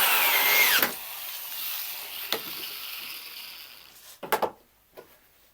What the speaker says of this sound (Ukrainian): Далі беремо шуруповерт і скрутюємо.